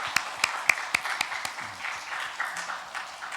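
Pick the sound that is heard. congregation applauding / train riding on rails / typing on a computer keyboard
congregation applauding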